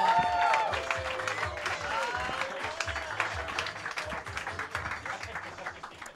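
A comedy roast audience claps and cheers for a comedian being introduced, a dense, loud burst of applause that gradually thins out, with voices mixed in.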